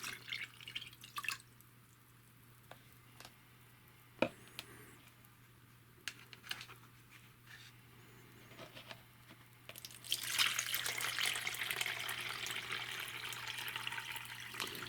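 Water drips and then pours steadily from a container of coco coir or hardwood pellet bedding into a measuring cup, scattered drips and small knocks first, then a continuous close trickling splash in the last seconds, with no talk.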